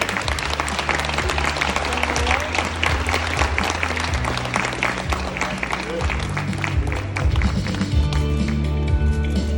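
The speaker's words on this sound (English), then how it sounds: "Now let's give them all a round of applause, our Partner Award winners for 2019." Conference audience applauds partner award winners at a company anniversary event and product launch, with sustained crowded clapping over loud stage music with a steady beat.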